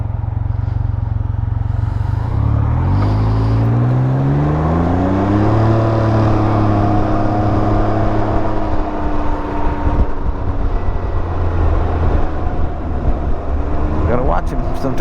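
A Can-Am Ryker three-wheeler engine pulls hard and rises in pitch through several gears, a loud close drone that settles into a steady cruise, with a voice talking over it.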